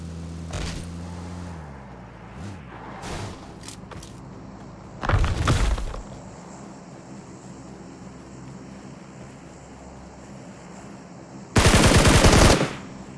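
Gunfire in the mobile battle royale game PUBG Mobile: a few scattered single shots, then two loud rapid automatic bursts several seconds apart, each lasting about a second, over a low, steady ambient hum.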